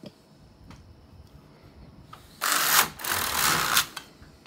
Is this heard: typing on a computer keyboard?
no